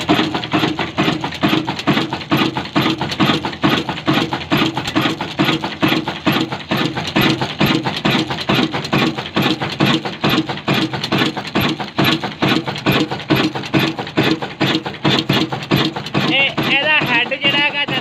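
A Kala 12 HP Pakistani diesel oil engine drives a saw mill, thumping in a fast, steady mechanical rhythm close up and loud. Someone talks over it throughout.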